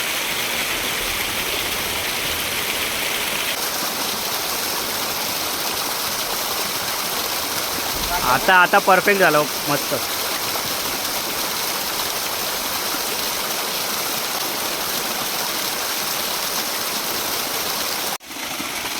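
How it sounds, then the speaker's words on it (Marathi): Water diverted over rocks pours down like a small stream during a trip near Lonavala, a steady rushing flow that carries on throughout, with a brief spoken comment partway through. "हे बघ हे आता यायला लागलं बघ पाणी"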